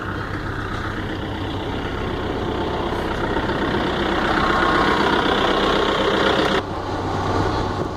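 A heavy diesel backhoe tractor engine idles steadily nearby, a constant low rumble that swells slightly before a brief shift near the end.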